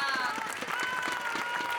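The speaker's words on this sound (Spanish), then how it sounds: "Un aplauso para Ana." Audience at a singing performance claps in a quick, steady patter after a female singer, Ana, finishes, with a voice speaking over the applause.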